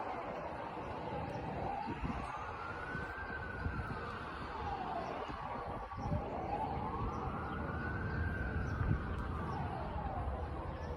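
Fire engine sirens wail in long rising and falling sweeps as crews arrive at a large fire in Başakşehir, steady and fairly close over a dense background rumble of traffic and commotion.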